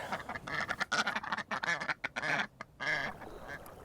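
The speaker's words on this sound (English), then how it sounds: "Little duckies." Ducks quack in a lively, overlapping series of nasal calls, close and fairly loud, during a fishing trip in Florida.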